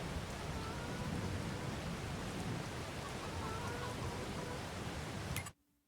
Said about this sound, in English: even though it's just started raining